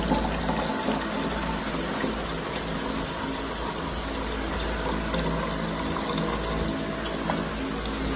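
Water for a puja is drawn and poured, giving a steady, continuous rushing splash with fine gurgles, fairly close and unbroken throughout.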